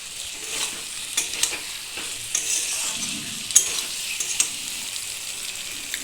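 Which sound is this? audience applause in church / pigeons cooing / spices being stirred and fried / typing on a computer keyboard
spices being stirred and fried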